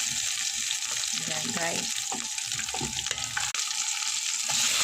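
Onion and garlic sautéing in a pan for shrimp sinigang, a loud steady frying hiss with stirring scrapes, while someone speaks briefly over it.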